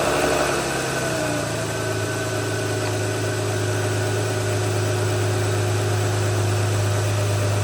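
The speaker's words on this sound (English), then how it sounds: "Now to start the car back up" Dodge 3.6L V6 engine starting and settling into a steady idle after an idler and tensioner pulley replacement, a continuous low hum with a faint belt-driven whine, close and even throughout with no talking.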